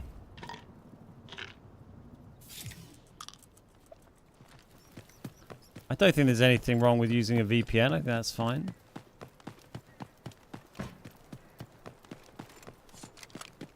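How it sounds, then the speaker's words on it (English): Rapid footsteps in the video game Delta Force Extraction patter as quick, rhythmic clicks throughout, sitting under a person speaking in the middle of the stretch. "We heard quite a lot of footsteps."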